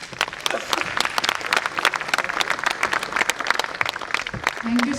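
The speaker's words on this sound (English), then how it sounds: "Give a very big round of applause again" Conference audience at a medical meeting in a hall at AIIMS Kalyani breaking into applause, dense rapid clapping from many hands, fairly loud and sustained, with some voices and crowd murmur mixed in.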